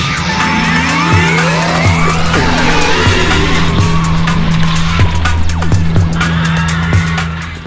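Cheap electric dirt bikes launching off a start line side by side, a loud continuous whine of electric motors rising in pitch with tire scrub and rattles, close and without talk.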